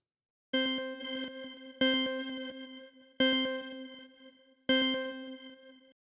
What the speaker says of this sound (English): Let's add a crystallizer to this.